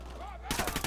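Gunfire in Ghost Recon Wildlands, a sudden burst of rapid shots breaking in halfway through after a brief quieter stretch.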